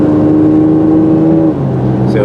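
1997 Toyota 4Runner SR5 V6 with a Flowmaster exhaust, a loud, close steady engine drone that shifts pitch downward partway through the brief moment.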